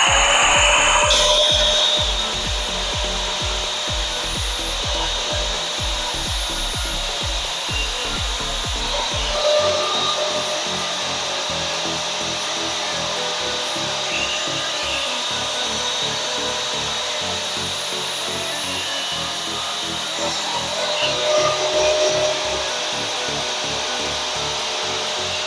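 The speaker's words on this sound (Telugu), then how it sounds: "కొద్దిగా ఈ బోల్ట్ అనేది మనం కట్ చేసుకోవాలి." A power tool grinds through a metal bolt during bedroom door fitting work. It starts with a loud burst of rough, gritty cutting, then settles into a steady, sustained grinding whine that swells again briefly near the end.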